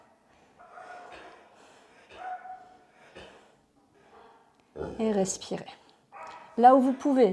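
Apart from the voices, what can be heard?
dog barking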